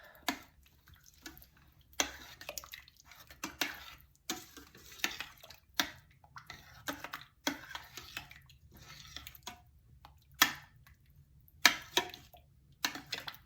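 Pasta ingredients with paprika being mixed in an Instant Pot, soft irregular scraping and tapping of a utensil against the pot, quiet and close, in uneven strokes with short pauses.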